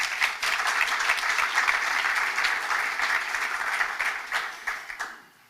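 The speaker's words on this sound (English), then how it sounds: "Please clap for yourself." Audience applause at a fall showcase event, a dense wash of many clapping hands that holds steady, then thins and fades out near the end.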